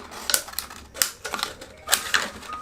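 Scissors snip a spiral into a plastic water bottle, giving a run of crisp crackling cuts in uneven bursts about every half second, close and fairly loud with no voices.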